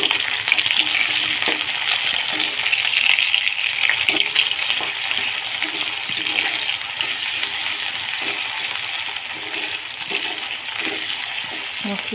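Chopped onions fry in hot oil for a masala, sizzling close and loud with a steady crackling hiss, stirring, and a few light clinks throughout.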